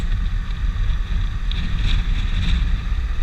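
Strong wind roars into the microphone, a constant low buffeting rumble with a faint higher whine, loud and unbroken throughout.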